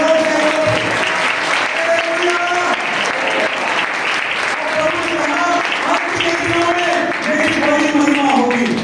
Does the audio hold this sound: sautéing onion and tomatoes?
no